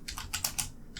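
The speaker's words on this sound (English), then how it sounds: "Shift and enter on your keyboard." Several quick keystrokes on a computer keyboard, tapping Shift and Enter, clicking close and clear in a short uneven burst with no talking.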